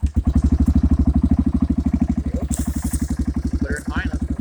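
An early 2000s Yamaha motorcycle engine idles steadily up close, its even, rapid firing pulses forming a loud, regular chug throughout, with a faint voice briefly audible near the end.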